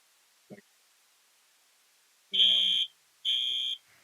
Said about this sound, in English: There's your fire alarm.